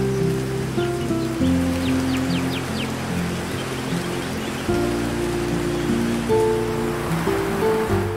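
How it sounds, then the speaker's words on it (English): A 30-meter waterfall plunging into a gorge in Java gives a constant broad rushing roar, loud and near. Held musical tones sound over it throughout, with no talk. "a short stop at Koban Piland Waterfall, which falls 30 meters into a gorge."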